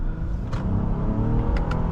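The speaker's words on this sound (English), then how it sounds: "Engine sounds good." Engine of a 2020 Honda Pilot Black Edition revving during a drive, a steady loud rumble that rises slightly and is heard from inside the cabin.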